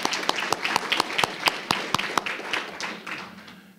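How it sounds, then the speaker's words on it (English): Small-room applause for a school coach at a board meeting, with crisp separate claps from a handful of people that keep a loose rhythm, then soften and trail off. "One more round of applause for Coach McCauley."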